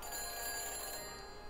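A telephone rings after dialing in the video game Back to the Future: The Game, a steady electronic ring tone with sustained tonal lines, moderately quiet and heard alone without speech.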